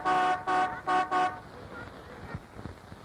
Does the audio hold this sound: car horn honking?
yes